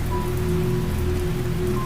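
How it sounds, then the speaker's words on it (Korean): Steady, close rain falling on surfaces, a dense continuous patter with no voices. "마른 하늘에 비가 내리기 시작하였다."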